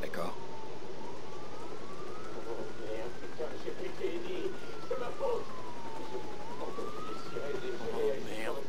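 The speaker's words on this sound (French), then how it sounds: "J'ai entendu les sirènes et j'ai réagi sans réfléchir." A police car siren wails in the Watch Dogs video game, a slow rising and falling tone repeating over a busy, noisy background of game ambience.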